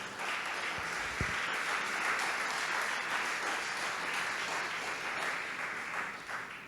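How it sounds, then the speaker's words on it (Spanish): Congregation at a Sunday church service applauding loudly and steadily throughout, a dense wash of clapping with no talk over it. "Denle un fuerte aplauso al Señor."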